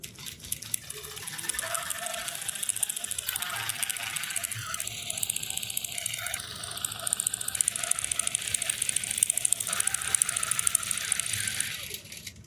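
A computerized quilting machine stitches a horizontal line across a quilt, giving a steady mechanical whirring and clicking hum with a faint rhythmic ratchet quality that runs continuously at moderate volume throughout.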